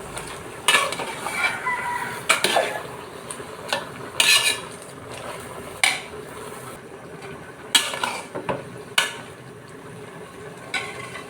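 Spinach stirred in a cooking pot with boiled potato, a series of distinct scraping and clanking strokes of a utensil against the pot, spaced irregularly over a quiet background with no talk.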